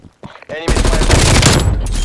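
Loud, sustained automatic gunfire in the video game Black Ops Cold War, erupting after a few brief voice sounds and continuing as a dense, close burst to the end.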